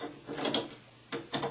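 A lever door handle part being spun into place, a few short close mechanical clicks and ratcheting turns separated by brief pauses.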